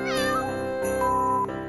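A cat meows loudly and insistently in a drawn-out, wavering cry with a steady tonal whine behind it, heard up close with no talking.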